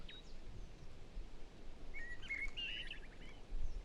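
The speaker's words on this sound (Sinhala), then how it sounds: "කුරුල්ලන්ගේ සද්දා." Birds chirp and trill in a quiet outdoor setting, with a brief burst of high, rapid song near the middle over soft, steady background noise.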